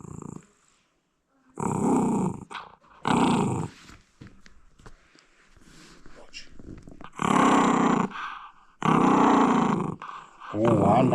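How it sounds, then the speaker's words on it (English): A small dog growls in repeated low, rumbling bursts close by, loud and rough, with a person talking between and over the growls. "Listen to him growl at me."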